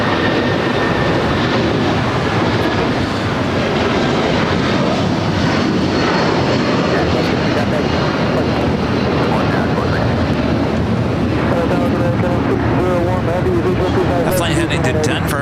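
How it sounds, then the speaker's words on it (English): A United Airlines Boeing 757-300 takes off at LAX, its engines producing a loud, steady broadband roar that holds throughout. A voice talks over the engine noise. "we got another United 757, this time a 300 taking off"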